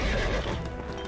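A horse in the video game Neverwinter whinnies loudly and close, a rough drawn-out neigh with a clattering edge, alone without any talk.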